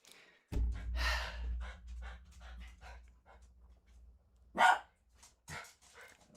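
A dog named Finnegan barks and pants indoors, with heavy breathy huffs followed by a few sharp, close barks spaced across several seconds, and quiet gaps between them.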